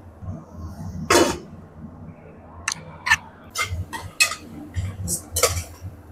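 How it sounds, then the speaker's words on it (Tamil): Tomatoes being sautéed in a pan over a high flame: a spatula clanks and scrapes against the metal in irregular bursts over a low background hiss, with no talking. "நல்லா ஹை ஃப்ளேமில் வச்சு நல்லா வதக்கணும்"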